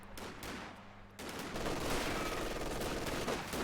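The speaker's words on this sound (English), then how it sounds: "that machine gun just had an angle on one model and instantly suppressed the squad" Machine gun fire in a strategy video game: a quiet burst, then a denser, sustained volley of rapid gunfire that keeps going at a steady low level.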